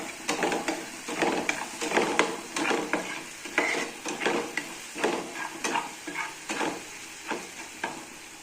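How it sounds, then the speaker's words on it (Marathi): Garlic sautés in a pan for sev bhaji, a soft sizzle under repeated scraping and clacking strokes of a spoon stirring in an uneven rhythm, close and alone. "आता लसूण टाकून घेते मी, त्याला पण चांगलं परतू देते।"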